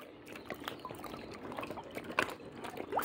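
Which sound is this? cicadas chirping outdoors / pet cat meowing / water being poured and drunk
water being poured and drunk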